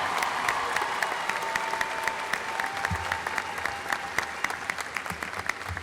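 An audience at a spring commencement ceremony on the Gulf Coast claps for a graduate, steady sustained applause filling a large hall for several seconds, with no speaking.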